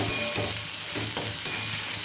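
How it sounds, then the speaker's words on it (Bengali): Drumsticks seasoned with turmeric fry in a pan, a steady loud sizzle and crackle with periodic scraping and stirring strokes, close and continuous, with no voices. "এই দিয়ে এবার ভাজবো, বেশি ভাজবো না, একদম অল্প একটু ভেজে নেবো।"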